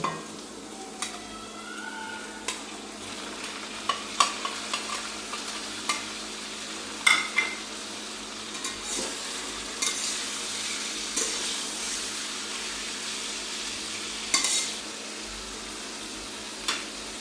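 Potatoes frying in a pan, with small river fish going in, give a steady close sizzle, and stirring scrapes and clinks recur throughout.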